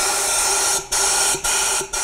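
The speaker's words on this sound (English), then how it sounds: "spray a little bit more fresh cleaner into the galley and blow it out with compressed air" Compressed air blasts loudly through the cleaned secondary air passages of a BMW N62 engine in three long hissing bursts, each cut off briefly before the next, with no talking.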